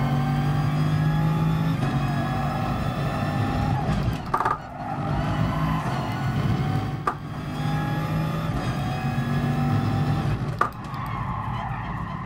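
Race car engine in GT Sport, loud and close, revving hard and holding near the rev limiter with a few sharp shift breaks and brief drops, no talk over it.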